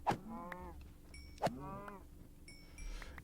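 Minecraft cows struck with a sword, two sharp hit thuds each followed by a short harmonic mooing hurt sound, plus faint game chimes, fairly quiet and without talk.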